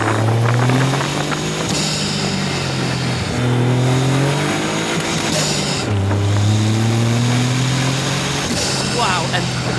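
A Caterham 170S small sports car engine with 85 hp and a turbo revs loudly up through the gears, each pull rising in pitch and dropping at the shifts, heard close from inside.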